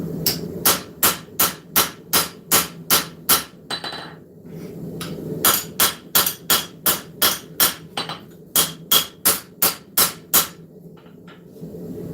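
A hammer strikes a blade being forged in a loud, close, rhythmic series of sharp metallic blows, falling in quick bursts with short pauses between runs.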